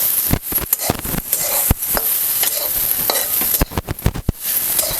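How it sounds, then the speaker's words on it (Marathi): Green tomatoes roast in oil with cumin seeds in a pan and are stirred, giving a steady crackling sizzle broken by repeated close scrapes and knocks of a spoon. "टमॅटो बरोबर भाजला जाईल तेल घालून ना थोडंसं आपण भाजून घ्यायचं"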